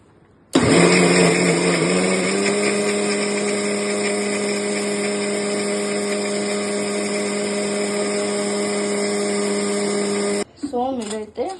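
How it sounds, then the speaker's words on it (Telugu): A mixer grinder blends a homemade ice cream mixture with a loud, steady whirring drone that starts abruptly, settles into a constant pitch and cuts off near the end, followed by brief clatter. "ఇప్పుడైతే మనం మిక్సీ వేసుకోబోతున్నాం గైస్."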